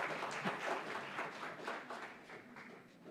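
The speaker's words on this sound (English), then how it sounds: "what kind of little clap is that?" An audience at a Garifuna heritage conference claps, a modest, uneven patter of hands that swells slightly then tapers, fairly faint and without speech.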